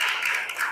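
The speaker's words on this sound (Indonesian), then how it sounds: "beri tepuk tangan untuk Renata ya" A classroom of students briefly claps for a classmate named Renata, a dense patter of many hands lasting under a second, fairly soft and steady.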